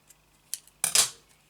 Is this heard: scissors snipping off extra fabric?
yes